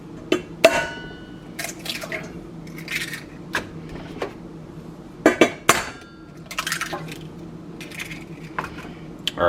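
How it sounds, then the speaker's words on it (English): Two eggs are cracked into a bowl: a series of sharp close taps, cracks and clinks against the rim arrives in irregular clusters, with light dripping between them. "crack the eggs in"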